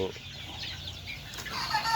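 Broiler chickens at 37 days old, raised on sand litter in a poultry shed, cluck softly and steadily, with scattered calls rising over a constant low hum.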